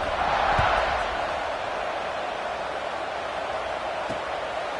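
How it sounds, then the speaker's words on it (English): A football stadium crowd after a score, heard as a broad, steady distant roar of many voices with a faint thump or two and no distinct cheers. "this crowd is buzzing after that last score"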